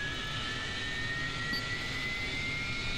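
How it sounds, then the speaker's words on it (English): An AV-8B Harrier jet engine spools up during startup in the DCS flight simulator, giving a steady, loud broadband roar topped by a rising high-pitched whine that continues throughout. "everything's starting to get very noisy as the engine's kind of turning over"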